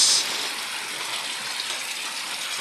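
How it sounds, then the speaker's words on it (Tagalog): Heavy typhoon rain from Aghon pouring down in Laguna, a dense, continuous hiss of falling water, close and steady, slightly louder at the very start. "sobra eh, ang lakas ng ulan no"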